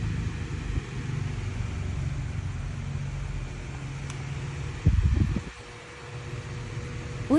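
A Mitsuyama MS-5544 desk fan running at speed level 2 gives a steady low whirring hum throughout, with a brief louder clunk and rattle near the end.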